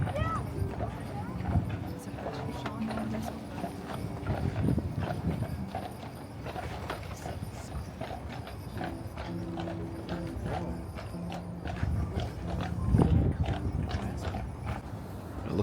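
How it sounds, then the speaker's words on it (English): Two horses clip-clop steadily as they pull a carriage at the Holiday Nights event at Greenfield Village, hoof beats repeating close by under crowd chatter and voices throughout. "These are the two fine horses that got us here."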